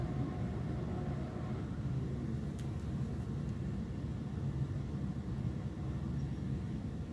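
Steady low engine rumble of an RX-7 car drifting in GTA 5, a continuous droning roar that holds evenly throughout with no voices.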